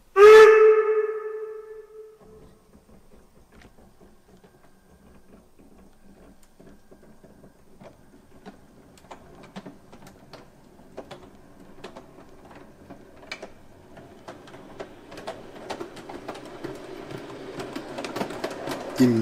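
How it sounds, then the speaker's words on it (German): A gauge 1 (1:32) model of the three-cylinder steam locomotive 18 201 from KM1 runs on a modular test track through tight curves. After a brief opening tone it gives a steady mechanical whir with clicking wheel noise that grows slowly louder, with no talking. "Nun zeige ich noch auf meinen Modultestgleisen, wie die 18201 enge Radien bewältigt."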